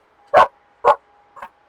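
Dogs bark three times, close and loud, with two strong barks about half a second apart followed by a shorter, softer third bark, each separated by silence.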